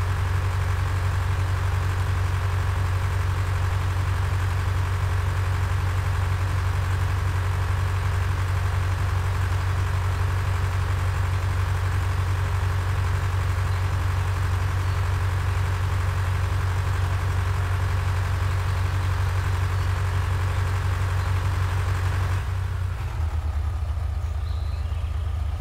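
A farm tractor idles in a farming video game, a steady low engine drone running unchanged and fairly quiet, with no talk, before cutting off near the end.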